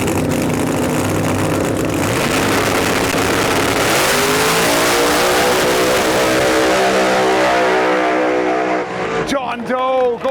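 A drag race car launches down the strip at an Outlaw Armageddon event, its engine roaring loud and close, rising through rapid upshifts in a sustained harsh blare before cutting off sharply near the end; speech is also detected.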